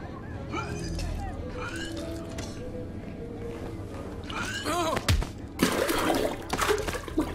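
Toilet flushing in the video game Hitman 2: a rushing, gurgling surge of water rises near the end, under and between voices talking over game ambience.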